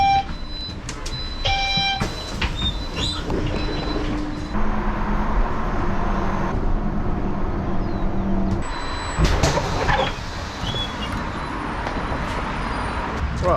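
Interior of a regular city bus in China on the move, a steady low engine and road rumble with rattles, brief beeps and a hiss as doors operate partway through, fairly loud throughout.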